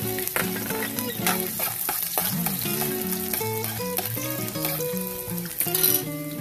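Garlic sizzling in cooking oil in a pan while preparing menudo, a bright crackling fry running throughout with a faint, tonal musical background beneath it.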